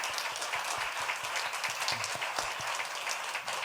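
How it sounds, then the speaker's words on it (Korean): Warm applause rises from a church congregation during a Sunday worship service, a moderate, steady patter of many hands clapping with a few sharper individual claps standing out, and no speech over it. "수고하신 분들 뜨거운 박수를 한번"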